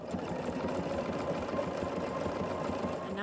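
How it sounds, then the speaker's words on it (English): A home sewing machine hums steadily and quietly with fast, even needle rhythm while sewing an applique stitch around a fabric piece on a quilted Christmas stocking name tag. "I'm going to do an applique stitch around the outside."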